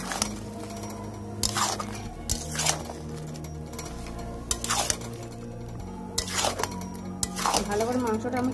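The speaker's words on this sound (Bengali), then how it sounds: "ভালো করে মাংসটা আমি কষিয়ে নেব।" Mutton being stirred and sautéed with fried spice powder, turmeric and chilli powder in a pot, with repeated scraping and clinking strokes of a spoon against metal over a steady low kitchen hum.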